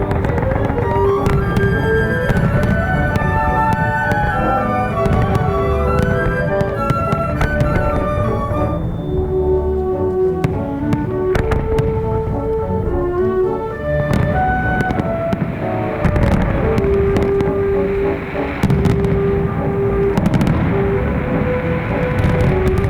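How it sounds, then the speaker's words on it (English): Continuous loud barrage of fireworks bursts and crackles at the Fallas festival in Valencia, Spain, dense overlapping bangs with no pauses, close and booming. "Fireworks professionals mix color and sound in perfect balance"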